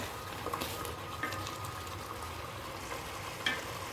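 Mutton biryani masala being stirred in a pot with bay leaves: a steady sizzling, bubbling cooking noise that runs throughout, with a few faint scrapes and clinks near the end.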